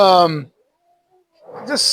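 A house cat meows loudly and close by, then falls silent for about a second before giving a second, shorter, wavering meow.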